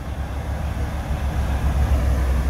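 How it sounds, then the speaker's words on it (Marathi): Low, steady rumble of a train rolling into Matheran hill station, a continuous heavy drone with no voices, fairly loud and close throughout. "आणि मंडळी आपली ट्रेन आलेली आहे"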